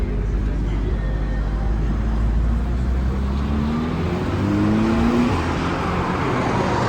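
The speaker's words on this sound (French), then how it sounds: "On va pouvoir entendre quelques vocalises sur piste de ce Flat 6" Porsche GT3 RS flat-six engine pulling away on a racetrack, a steady broadband car roar with a rising engine tone mid-clip, fading slightly as it moves off.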